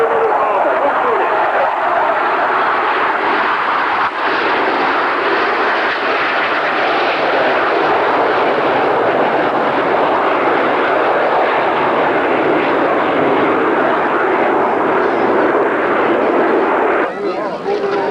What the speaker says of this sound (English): Approaching speed for both aircraft are in the carrier landing configuration, and they approach a maneuver we call the hook.